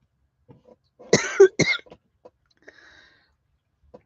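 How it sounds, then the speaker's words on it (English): Two sharp coughs close together, followed by a few faint throat sounds and breaths in a quiet room. "Now I'm going to have a coughing attack."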